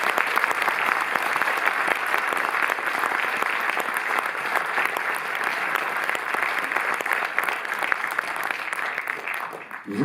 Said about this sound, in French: Je pense que vous pouvez peut-être l'applaudir